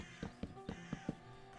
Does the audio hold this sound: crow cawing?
yes